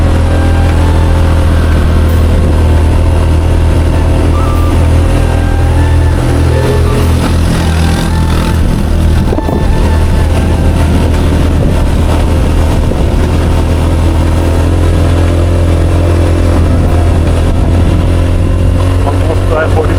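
A motorcycle carrying two riders climbs a steep hill road towards Boga Lake in Bandarban, its engine droning loud and steady throughout, with strong wind buffeting and voices heard over it.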